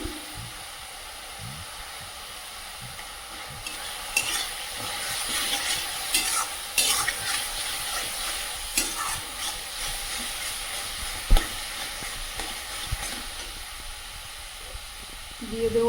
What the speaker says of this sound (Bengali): মশলাটা ভালোভাবে ভেজে নিয়েছি এবার এর মধ্যে দিয়ে দেবো পরিমাণ মতো হলুদ গুঁড়ো